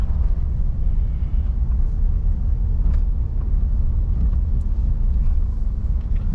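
A car creeping slowly through a narrow street in Tamil Nadu, giving a steady low engine and road rumble with faint wind noise and no talking.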